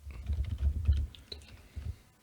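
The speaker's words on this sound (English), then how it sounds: "typing his response instead of saying it" Someone typing on a computer keyboard, heard as a fast run of soft, close key clicks and taps with brief pauses, over a low background rumble and no speech.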